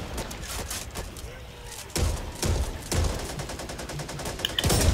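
Rapid bursts of heavy automatic gunfire in Back 4 Blood, with dense rattling volleys broken by short pauses, loud and close, with a voice heard faintly underneath.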